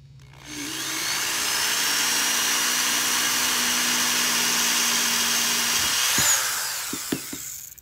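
A power drill bores steadily into a small cast drawer pull for several seconds, a loud sustained whine that ends in a few sharp knocks and clatters.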